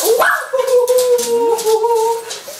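Several household dogs whimper and yip in high, drawn-out whines and short squeaks close by, a long sustained whine carrying through most of the stretch.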